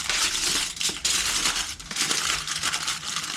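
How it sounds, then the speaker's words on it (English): Aluminium foil crinkles and crunches as potatoes are wrapped in it, close-up, in several loud crumpling bursts with short pauses. "I'm just gonna wrap them up in the foil"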